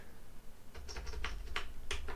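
Keys tapped on a VTech Pre-Computer 1000 keyboard, about eight distinct plastic clicks in an uneven rhythm, close and clear over a low background hum, with no talking.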